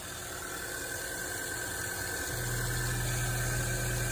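A 2011 VW Tiguan engine idles steadily on a rainy morning, a close, even hum whose low drone deepens and grows slightly louder partway through, with no talking.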